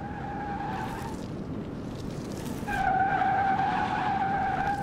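A Scion FR-S in Car Mechanic Simulator 21 drifts through donuts, its tires squealing in two long sustained howls, the second louder, over a steady engine rush.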